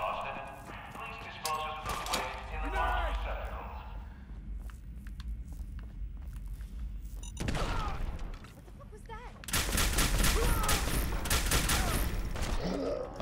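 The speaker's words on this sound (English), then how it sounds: "I'm gonna switch to the Gamma Gun" Gamma Gun fire in Fallout 4 comes in bursts of crackling, buzzing energy shots, with a dense rapid volley in the last few seconds, over game ambience and some combat noise.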